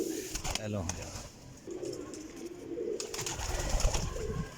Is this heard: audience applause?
no